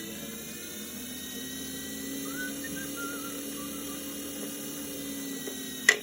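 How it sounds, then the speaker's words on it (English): A Singer 401a sewing machine winding a bobbin slowly, a steady, even motor whir with a faint whine throughout, ending in a sharp click. "just winding my bobbin, making sure it's nice and even, going slow so my thread doesn't jump off"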